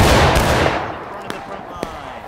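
Civil War musket volley from a firing line in the game War of Rights, a loud rolling crash of many shots that fades into echoing reverberation, followed by a couple of scattered single shots in the distance.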